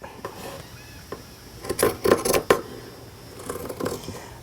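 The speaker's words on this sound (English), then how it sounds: "I'm simply going to take my scissors" Scissors trimming the edge of a fleece pillow panel during sewing, a cluster of quick crisp snips and rustles near the middle, close and fairly quiet, with softer fabric handling before and after.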